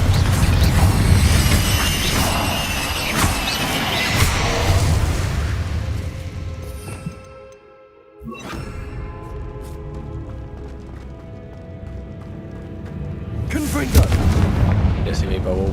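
In the video game Hogwarts Legacy, Confringo fire spells explode in heavy booming blasts layered with crashing debris and combat noise, dropping briefly to near silence midway before another loud burst, with voices in the mix.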